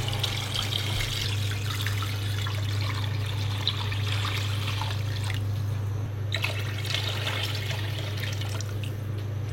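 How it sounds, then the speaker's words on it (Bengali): Water poured steadily into a cooking pot of nehari bones set on a stove, a continuous close trickling and splashing stream under a constant low hum, with no talking. "এর ভিতরে কি এখন পানি দিতে হবে? পানি দিয়ে দেব।"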